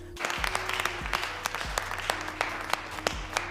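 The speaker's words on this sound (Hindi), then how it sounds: "सभी लोगों के साथ ये भी अपने हाथों से तालियां बजाने लगते हैं" Scattered hand claps from a group in a jail scene of a comedy film, sharp and irregular, ringing out over a low sustained musical tone.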